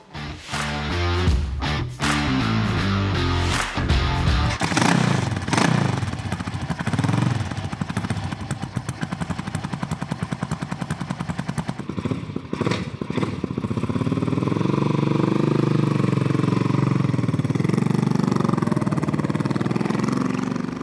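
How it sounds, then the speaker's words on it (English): A 1976 Ducati 900 Super Sport motorcycle being ridden, its engine a steady, close, loud drone that rises and falls as it revs and pulls away, with no talk over it. "So let's take out this bike for a ride and see how it performs."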